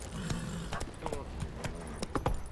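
Galloping horse in The Witcher 3 game, a brisk, steady run of hoof beats over game background sound, with a voice talking over it.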